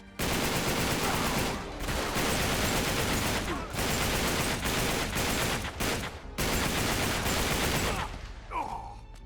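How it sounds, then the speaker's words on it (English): Gunfire from a loud gun in an Uncharted video game, with dense, rapid bursts of automatic shots in several long volleys separated by brief pauses, close and forceful, ending in a quieter tail. "This gun is loud as frick"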